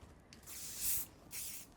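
Hairspray misted onto a sleek low bun in two short hissing bursts, the first longer and stronger, close by and with no voices.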